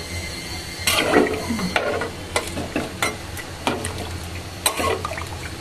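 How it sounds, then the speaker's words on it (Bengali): Spatula stirring vegetable dalia (cracked-wheat khichuri) in a pot, giving scraping strokes at a steady, irregular pace over a soft sizzle. "খুন্তি দিয়ে নেড়ে দিই।"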